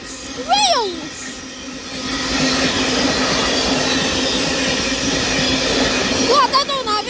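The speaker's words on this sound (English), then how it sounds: "Glad I don't have air damage now after this squealy freight train." A Class 66 freight train passes at Runcorn, its wheels squealing in sharp sliding whines at the start and end over a steady loud rumble of wagons, with a voice briefly heard.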